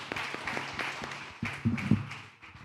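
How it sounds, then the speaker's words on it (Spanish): Scattered audience clapping at a business talk on startups and scaleups, fairly faint and uneven, with a few individual claps standing out and a low voice underneath. "Aplausos."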